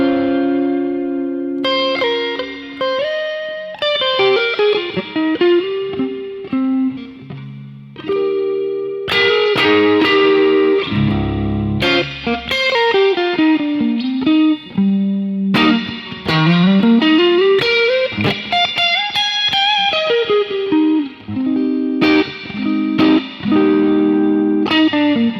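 Electric guitar through a Strymon Iridium amp modeler plays sustained chords and bending melodic lines with a wavering, pulsing vibrato effect pedal and reverb, loud and continuous.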